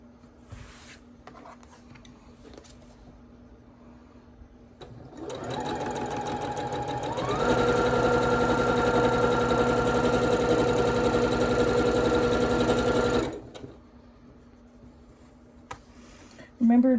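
A sewing machine stitches quilt blocks with a 1/4-inch seam. The close, steady mechanical whir runs for several seconds and speeds up partway through, with a fan and faint background sounds before and after.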